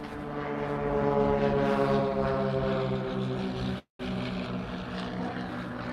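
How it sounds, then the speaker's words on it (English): Propeller airplanes flying overhead on a holiday weekend, a steady, loud droning engine hum with layered harmonic tones that holds for several seconds, cuts out abruptly for a moment, then resumes. "A lot of these planes are flying faster than normal."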